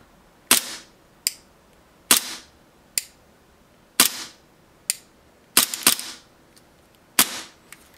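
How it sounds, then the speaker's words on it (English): A Tokyo Marui P226 airsoft pistol fitted with a UAC lightweight blowback unit fires about nine sharp, loud, close shots at irregular intervals, each a crisp snap with a short metallic tail, with no talking. "So I'll just shoot with one hand."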